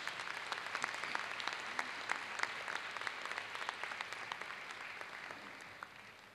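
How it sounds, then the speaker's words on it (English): Sustained applause from a town hall meeting audience, a dense steady crackle of many clapping hands that holds throughout and slowly tapers near the end, with no talking over it. "So let's give our speakers and our leader another thunderous round of applause."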